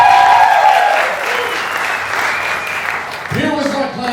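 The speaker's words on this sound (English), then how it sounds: "we'll get a huge round of applause" A comedy-show audience breaks into loud, close applause that gradually thins, while a voice begins talking over the tail end.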